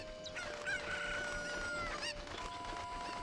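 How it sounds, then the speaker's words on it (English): Chickens in The Legend of Zelda: Ocarina of Time, a video game, crowing and clucking loudly in a steady, busy chorus, with game background sounds underneath. "Sorry if the chickens are too loud."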